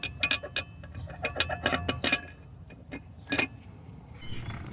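A ratchet clicks in quick rapid bursts while removing the cam sensor on a Ford 3.7L Duratec V6, with close metallic ticking that pauses, returns once and then fades into light handling noise.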